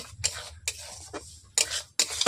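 Semolina being stirred as it fries over low heat in a pan, producing quick gritty scraping strokes with short pauses between them, close and fairly loud, with no talking.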